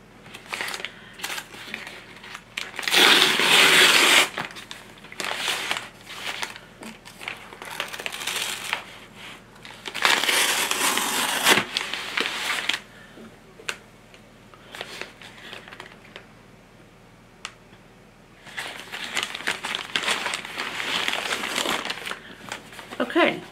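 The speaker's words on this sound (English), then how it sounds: "let's see what's in the next package." Plastic packaging of cleaning and studio tidying supplies, including Ziploc bags, crinkles and crunches in loud close bursts while being unpacked, separated by quieter pauses and occasional soft handling noises.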